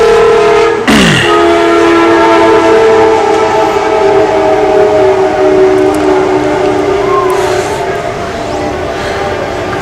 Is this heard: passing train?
yes